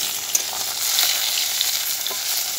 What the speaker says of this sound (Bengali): আর এই যে মাছ ভাজা চলছে